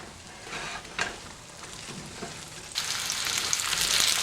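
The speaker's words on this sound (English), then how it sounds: "So add the onions, give them a little stir, and then cook them for 5 minutes." Onions cook in a pan with a soft sizzle and a few stirring scrapes, then a louder, brighter frying hiss swells up partway through and continues to the end, no talking.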